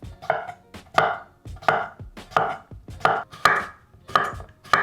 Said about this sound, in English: And then slice those up.